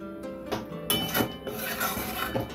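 A lid set over a pan of Bengali boal fish kosha curry, with clinks and metallic knocks of cookware, several close bright hits over a background of sizzling.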